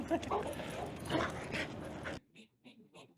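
A dog whimpers softly in short, high whines after a stretch of loud mixed noise, the small cries coming in brief separated bursts close by.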